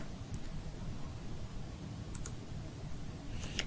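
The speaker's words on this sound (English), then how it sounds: "open the Speedy Breedy software by double-clicking on the icon on your desktop" Faint, sharp clicks from a computer mouse in a quiet room: a single click early on, then two quick clicks in a row like a double-click on a desktop icon, and another soft click at the end.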